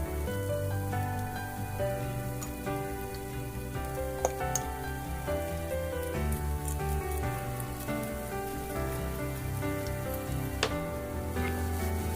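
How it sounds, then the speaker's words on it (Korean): Steady crackling sizzle of cabbage, carrot and bell pepper stir-frying in a hot pan, continuous throughout, with background music playing over it. "당근과 파프리카 넣고 소금, 후추 약간 넣으신 다음 살짝만 볶아주세요"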